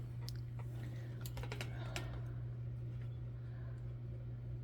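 A few quick, light keystrokes on a keyboard are made to jot down a note during a crochet chat, scattered clicks near the start over a loud, steady low hum.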